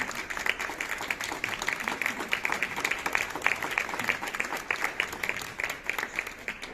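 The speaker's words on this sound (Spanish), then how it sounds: "creo que merece la pena un aplauso." An audience at a book presentation breaks into sustained applause, a dense, even patter of many hands clapping for several seconds at moderate distance.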